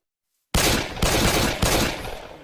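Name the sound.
pistol gunfire in the video game Minecraft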